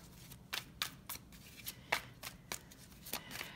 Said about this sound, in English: now we're going to pick some tarot cards